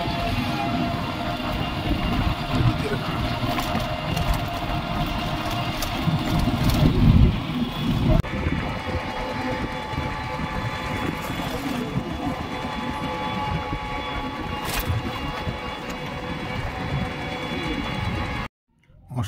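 A toto e-rickshaw travels the road toward a ghat near Namkhana on the way to Mousuni Island, with a continuous close rumble and rattle of the ride that cuts off abruptly at the end.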